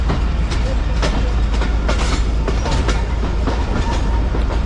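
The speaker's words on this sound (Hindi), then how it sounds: "दोपहर को 3:15 पे ट्रेन हमारी सैमन शरीफ रेलवे स्टेशन पे अप्रोच बना रही है" A passenger train on a Pakistani main line approaches Saeman Sharif railway station, heard from on board as loud, continuous rumbling with rhythmic clickety-clack of the wheels over the rail joints.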